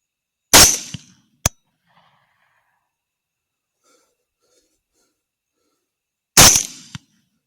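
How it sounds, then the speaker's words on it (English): Two loud 6.5 Grendel rifle shots with Barnes 120-grain TAC-X bullets fired at two wild boars outdoors, roughly six seconds apart. Each blast has a short echoing tail, and a faint thump follows each shot. "Two shots, two hits, two down hogs."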